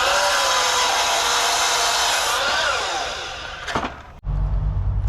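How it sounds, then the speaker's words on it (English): Power saw cutting wooden boards for a planter box, a loud steady whine that runs for several seconds, wavers, then cuts off with a brief burst of knocking before a low hum takes over. "what I'm going to do is cut 10 of these boards at 16 inches wide"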